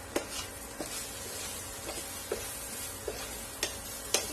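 Green banana pieces with masala stir-frying in a pan, a steady soft sizzle punctuated by light regular scraping taps of a spoon about every half second, close and quiet with no voices.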